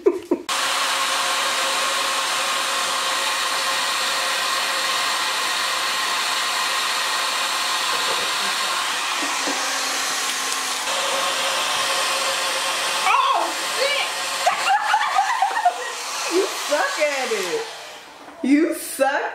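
A leaf blower runs at full power with a loud, steady, high-pitched whir for most of the stretch, then cuts out near the end as voices briefly come through.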